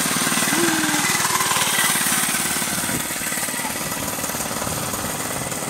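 Kids' mini bikes ridden over grass with the small engine running, a steady, buzzy, rattling drone that carries through the whole stretch, fairly loud and close.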